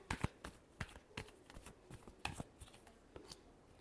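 Tarot cards shuffled close up, a series of crisp papery riffles and slaps at a steady, slightly uneven pace, quiet and alone with no talk.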